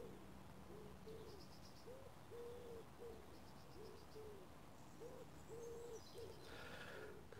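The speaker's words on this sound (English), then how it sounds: "got distracted by a couple of pigeons" Pigeons coo in soft, repeated hollow notes at a regular pace. The calls are faint and sound a little distant, with light outdoor background noise and a few faint high chirps in between.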